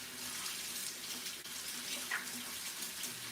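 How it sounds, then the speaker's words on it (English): A kitchen tap runs steadily while hands are washed, a continuous close water stream with a faint splash partway through. "Let me wash my hands real quick."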